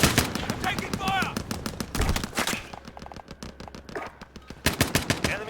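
Heavy automatic gunfire in Call of Duty: Modern Warfare Warzone, rapid bursts of close, loud shots in clusters with brief lulls, mixed with game effects and a voice speaking in between.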